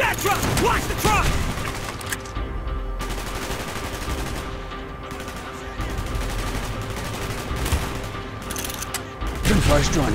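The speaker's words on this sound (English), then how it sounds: "Gunfire's drawing attention." Sustained gunfire from Call of Duty: Black Ops rattles throughout, with dense bursts and fusillades layered over constant battle noise, growing heavier toward the end.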